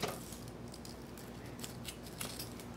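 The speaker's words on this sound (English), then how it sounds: "may need some scissors to cut away some of the fluff here" Scissors snipping away fluffy insulation around exposed wires on an old radio, a quiet series of small crisp cuts close by.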